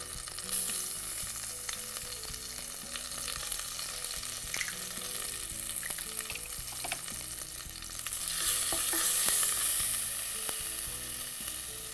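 Cinnamon, cloves, cardamom and ginger-garlic paste sauté in a hot pan with a steady close sizzle, broken by frequent spoon scrapes and stirring clicks. The frying swells louder in the last few seconds.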